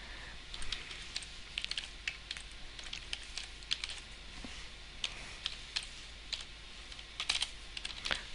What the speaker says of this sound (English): Now I have to type the address which I copied